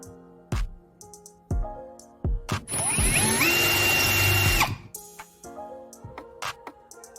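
A power drill bores into hard wood to mount a metal garage cabinet, running in one loud, sustained burst of about two seconds, framed by close knocks and clicks of handling before and after.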